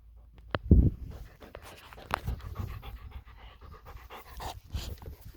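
A dog pants quickly and steadily up close, with a short burst of louder noise near the start and faint rustling underneath.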